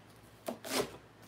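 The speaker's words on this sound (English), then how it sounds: "chopping the cabbage up nice and small" A knife chops cabbage on a cutting board, two quick crisp cuts close by, the second longer and louder, against a quiet room with no talking.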